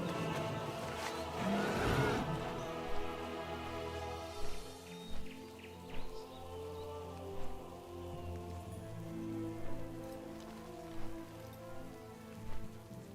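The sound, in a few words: rain in Stormwind, World of Warcraft video game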